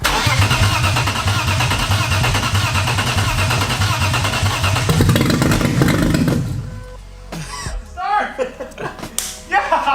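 A barn-find BMW E36 cranking over and firing up after restoration, a rapid rhythmic starter churn that catches and roars for several seconds, then cuts off, followed by excited voices.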